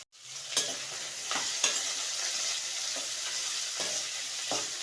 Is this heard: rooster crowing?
no